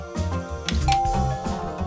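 A household doorbell in an Indian sitcom chimes a ding-dong tone, close and clear, over a faint background of room sound and music.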